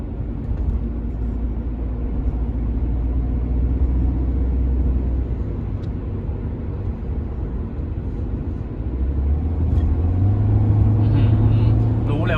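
A remapped BMW F10 with an N47 diesel engine cruises in normal mode, heard from inside the cabin as a continuous low engine and road rumble that swells slightly toward the end.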